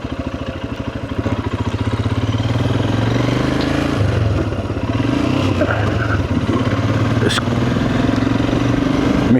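A Royal Enfield Himalayan motorcycle shifts from first to second gear. The close, continuous engine note steadies, dips briefly between gears, then carries on.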